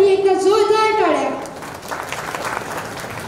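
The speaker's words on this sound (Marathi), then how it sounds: "आदित्यसाठी एकदा जोरदार टाळ्या" Applause for a child poet at a children's poetry gathering breaks out after a voice speaks briefly, a dense patter of many hands clapping that carries on to the end.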